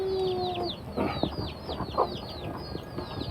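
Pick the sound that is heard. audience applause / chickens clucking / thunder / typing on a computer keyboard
chickens clucking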